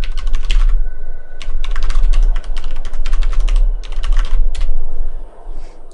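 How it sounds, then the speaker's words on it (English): Fast typing on a computer keyboard while playing StarCraft II, bursts of close, crisp key clicks in quick runs with brief pauses, loud and continuous, no speech. "I'll type in the cheat code so I can see what's going on at the computer end."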